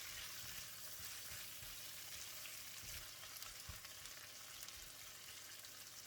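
Shrimp paste, yellow onions and chili fry in garlic oil, giving a steady bright sizzle with soft low knocks of stirring underneath. The sound is quiet and even, with no talking.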